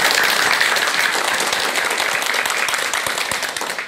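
An audience claps steadily and loudly before a lecture on living without regret, a dense wash of applause that holds for the whole stretch with no voice over it.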